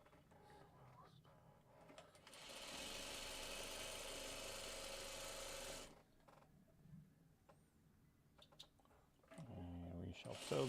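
A sewing machine runs for a few seconds stitching a quilt patch, a steady close mechanical whir that stops abruptly, followed by quiet handling noises and a voice near the end.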